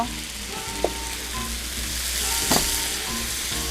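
Broccoli stir-frying in a hot pan with a splash of soup stock, a continuous close sizzle with two sharp clacks of a utensil against the pan, and no speech.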